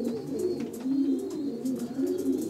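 Racing pigeons in a ventilated breeding loft in the afternoon after their flight coo in overlapping, low, throaty waves, a dense nearby chorus with faint higher chirps and no speech.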